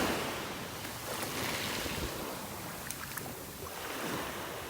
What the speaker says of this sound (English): You can see the tide is coming in, starting to pull the shells back into the water here.